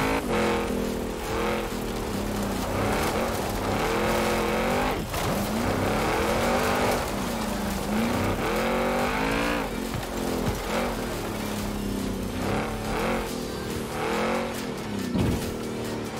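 Lamborghini Urus engine in the racing game Forza Horizon 4, revving hard and continuously with rising and falling pitch through gear changes, mixed with tire squeal, loud and without talk.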